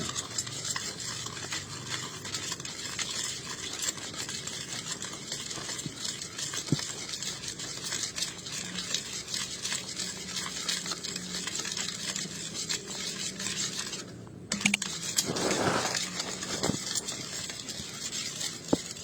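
Continuous gritty scraping and rustling of sugar or MSG crystals being stirred in a container, steady and close throughout with a brief pause near the end.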